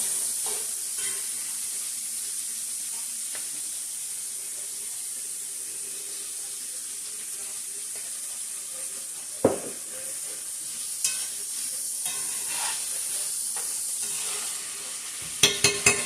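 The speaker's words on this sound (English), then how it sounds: "I got the corn cooking. I put some olive oil in there" Corn cooking in olive oil sizzles steadily in a pan with a soft hiss, accompanied by a few brief clanks of a utensil against the pan and no talking.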